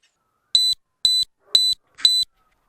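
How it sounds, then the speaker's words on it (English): Four evenly spaced high-pitched electronic double beeps from a Foxeer Legend 2 action camera sound in a quiet space, each short and clear, about half a second apart. "This beep only happens after about 30-40 seconds of no movement when it's still recording."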